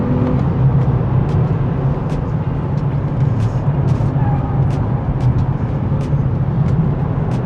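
A 2027 Nissan Z Nismo on a drying race track at speed, a steady broadband engine and road roar with faint ticking transients, continuous and fairly loud without clear gear changes.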